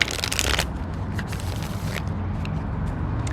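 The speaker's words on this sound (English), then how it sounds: "One more shuffle." A deck of tarot cards is shuffled up close, giving a dense riffling flutter at the start that settles into softer, continuous papery rustling, with no talking.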